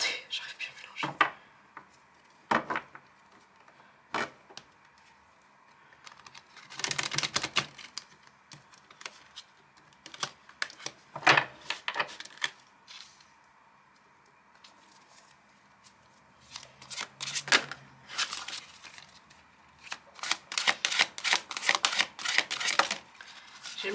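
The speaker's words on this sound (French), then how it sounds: "Attendez, j'arrive plus à mélanger." Tarot cards shuffled by hand in irregular bursts of crisp riffling and slapping, close and fairly loud, with quieter gaps between the flurries.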